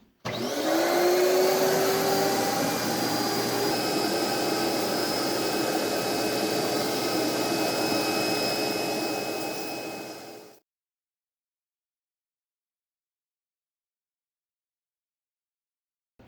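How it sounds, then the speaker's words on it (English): A shop vacuum spins up with a rising whine and roars loudly and steadily up close while cleaning out a ball joint, then cuts off abruptly, leaving silence. "If you throw on the power to our vacuum here, and get rocking and rolling."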